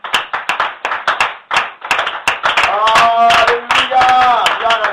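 A church congregation claps to acclaim Jesus, first in sharp, evenly spaced claps, then in fuller, faster clapping under a voice that speaks and sings over it.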